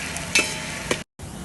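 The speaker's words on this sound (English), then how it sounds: "We are going to cook these onions till they become brown" Onions sizzling as they brown in a pan, a steady close fry with two brief scraping stirs and a short gap of silence near the end.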